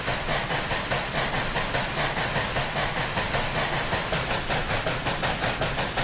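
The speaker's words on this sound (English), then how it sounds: "we had quite a few trains by now that have run past the camera" BNSF model trains on a layout roll past at close range, a steady rhythmic clickety-clack of wheels over rail joints with a constant running rumble and no voices.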